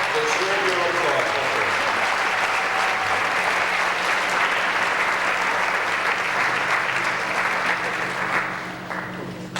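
Sustained audience applause fills a school auditorium at a senior awards night, steady and dense throughout before tapering slightly at the end.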